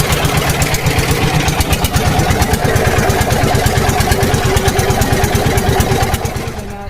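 A boat engine chugs loudly and steadily nearby on a river trip around Jaflong in Sylhet, its rapid regular putter continuing throughout before easing slightly at the end.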